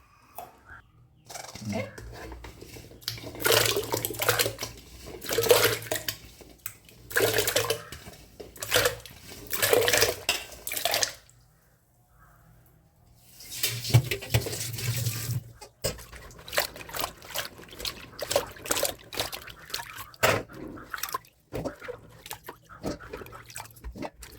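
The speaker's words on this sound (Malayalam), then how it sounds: "ഇനി ഇതൊന്ന് കഴുകിയെടുക്കണം രണ്ട് മൂന്ന് പ്രാവശ്യം നല്ല വെള്ളത്തിൽ കഴുകി നമുക്ക് വൃത്തിയാക്കി എടുക്കാം" Chopped tapioca being washed by hand in a bowl of water: repeated bursts of sloshing and splashing with short quiet pauses between rinses, close and moderately loud.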